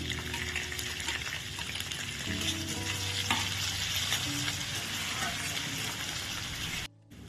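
Crushed garlic and pre-chopped onion hit hot oil in a pan, sizzling and frying steadily up close with stirring scrapes, then stopping abruptly near the end.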